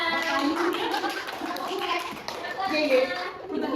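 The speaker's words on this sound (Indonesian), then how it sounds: "Oke, tepuk tangan." Children in a classroom group clap after presenting solutions, with light, scattered hand claps mixed under loud overlapping children's voices and chatter.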